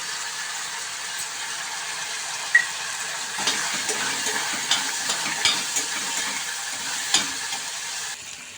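Onion fries in oil in a pan as turmeric is added, for a kohlrabi curry. A soft steady sizzle carries occasional light scrapes and taps of a spoon, and no one speaks.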